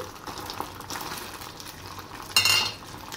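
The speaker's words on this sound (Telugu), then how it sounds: "ముందుగా ప్రిపేర్ చేసుకున్న మంచూరియా బాల్స్ అన్నీ ఇందులో వేసుకుంటున్నాను" Rice-based Manchurian balls tumble into a sauce in a pan and get stirred, giving a steady soft sizzle and scraping that swells into a brief louder clatter near the end.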